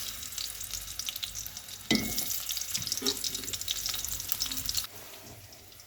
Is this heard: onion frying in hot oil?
yes